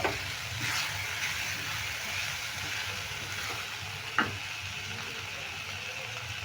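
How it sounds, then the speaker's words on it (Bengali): Vegetable roll filling fries with spices in a pan, giving a constant soft hiss and sizzle. A couple of brief scrapes and clinks come from stirring, and no one speaks. "এবার সমস্ত মশলাগুলো দিয়ে ভালো করে নেড়ে নেব"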